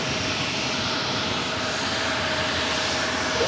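A Virgin Airbus A350-1000 airliner at New York JFK airport gives off a steady, moderately loud jet engine rumble and whine that holds evenly throughout, with no voices.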